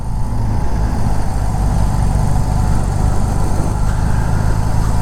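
Steady low rumbling engine of a BMW R18 motorcycle fitted with Vance and Hines pipes, loud and continuous with a buzzy drone and no pauses.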